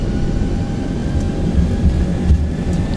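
Boeing 737 jet engines spool at takeoff thrust in the X-Plane 11 flight simulator, a loud continuous low roar with a faint steady whine above it.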